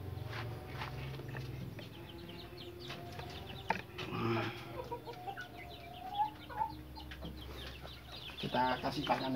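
Chickens clucking and calling inside their coop, a mix of near and farther birds over a steady low hum, with occasional footsteps and shuffling among them.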